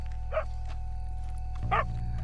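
Two short dog barks in Red Dead Redemption 2, spaced over a second apart, moderately close against a quiet low ambient hum.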